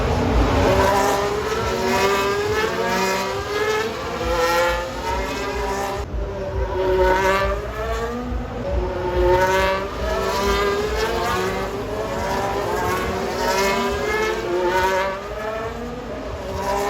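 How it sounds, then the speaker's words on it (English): Formula 1 race cars at the 2023 Singapore Grand Prix night race scream past one after another, loud high-revving engines rising and falling in a continuous stream close by. "hopefully we can get some close-up pictures or photos or videos of the cars as they go past"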